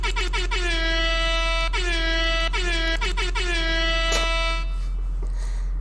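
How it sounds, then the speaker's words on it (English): A loud air horn blasted in a series of sharp honks, several short stabs followed by sustained blares with abrupt cutoffs, close and dominant, set against a steady low hum. "Yeah, do the air horn."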